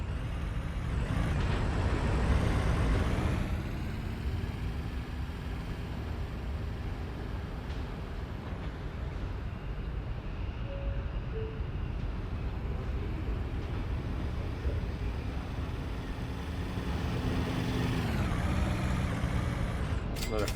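Buses running in the video game Transport Tycoon, a steady low engine rumble with air-brake hisses and vehicle noise throughout, with some indistinct background voices.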